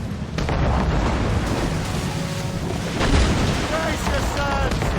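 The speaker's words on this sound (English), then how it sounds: "We should fire our mortars" Naval mortar fire and booming explosions from a ship battle in Assassin's Creed Rogue rumble steadily throughout, with a heavier blast near the middle and shouted voices over the din.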